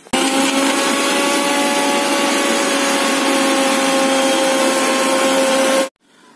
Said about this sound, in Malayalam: ഒന്നുകൂടെ ഒന്ന് മിക്സി ഇട്ട് അടിച്ചെടുക്കാം.